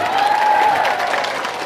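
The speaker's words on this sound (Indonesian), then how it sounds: "tepuk tangan dulu" Audience applause at a religious talk, a dense wash of many hands clapping at steady loudness, with a faint whistle-like tone near the start.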